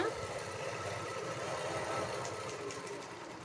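A sewing machine stitches a picot edge along a saree, giving off a steady, continuous mechanical whirr that runs the whole time at an even level, close by with no talking.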